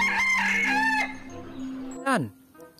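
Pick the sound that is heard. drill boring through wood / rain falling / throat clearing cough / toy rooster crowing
toy rooster crowing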